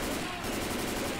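Rapid automatic gunfire from the zombie shooter game Left 4 Dead 2 crackles in a dense, continuous burst, loud and unbroken for the whole moment, with faint voices mixed in.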